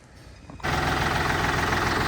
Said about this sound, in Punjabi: ਆਵਾਜ਼ ਉਹ ਬਹੁਤ ਸੋਹਣੀ ਆ ਬਾਈ ਟਰੈਕਟਰ ਦੀ